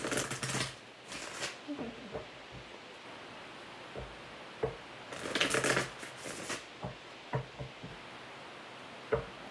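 Repeated bursts of tarot cards being riffled and shuffled, with soft taps and rustles between bursts, close and fairly quiet.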